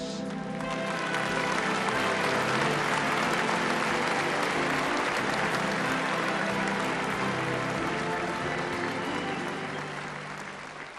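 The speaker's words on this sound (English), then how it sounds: "with some well-deserved applause, you can now lead off" Sustained audience applause fills a pageant hall at Miss World 1976, a dense, steady wash of many hands clapping that holds loud for about ten seconds before easing off at the end.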